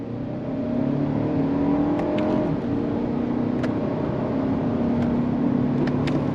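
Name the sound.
Lexus TX 500h accelerating through gears in manual mode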